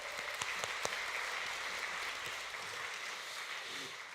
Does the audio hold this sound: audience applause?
yes